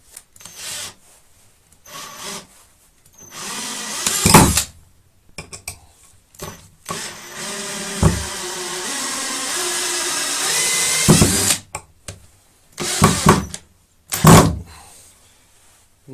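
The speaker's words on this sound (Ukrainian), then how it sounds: "в мене є отакий, якщо чесно, 150 мм. Давайте його так, мабуть, закрутити" A Tekhmann TCD-60/i20 cordless drill drives a 150 mm screw into wood, with a long stretch of steady whirring and grinding, then short bursts as the driver pushes the screw home, close and loud.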